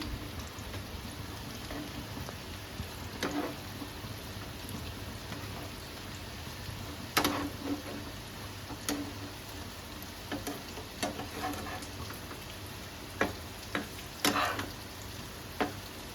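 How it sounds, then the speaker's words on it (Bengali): Prawn head fritters fry in hot oil with a constant rain-like sizzle. Louder pops and crackles break through at irregular moments, heard up close without any talking. "বড়াটা একটু কড়া করে ভাজবো আমি"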